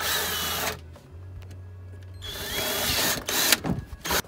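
A power drill enlarges bolt holes to 1/4 inch in a Lexus GX470 rear hatch for a fold-down table, heard close as a loud whine that stops briefly and then resumes with rough biting and grinding.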